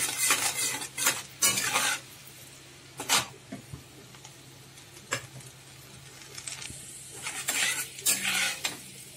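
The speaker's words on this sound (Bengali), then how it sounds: "তেলের মধ্যে রসুন কুচি দিয়ে দিচ্ছি" Chopped garlic frying in hot oil in a pan for a chili egg dish, with a steady low sizzle under repeated loud scrapes and clinks of a utensil stirring against the pan, no talking.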